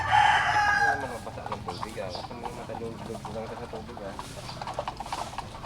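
Farm chickens cluck and squawk nearby while being fed, an agitated burst at the start then steady clucking throughout, while a person talks over them.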